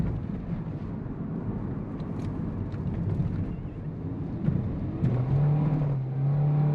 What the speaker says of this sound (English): Now we're going to flog this car around these corners